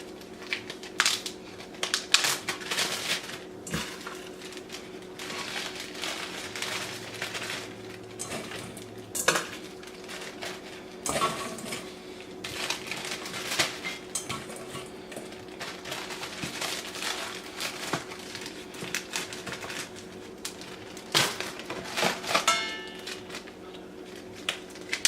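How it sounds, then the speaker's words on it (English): Stiff plastic freezer bag crinkling and crackling as fingernails poke at it, irregular bursts of close, sharp rustles and clicks over about twenty-five seconds, no talking. "Trying to poke a hole in these bags with my nails."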